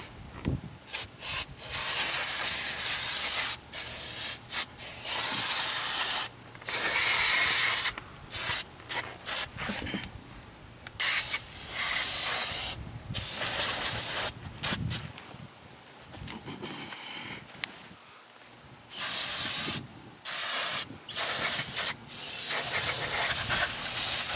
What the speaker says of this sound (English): spray your brakes down real good with the brake cleaner